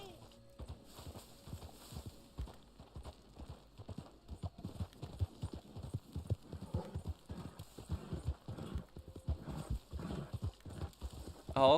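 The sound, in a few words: horse galloping in video game Red Dead Online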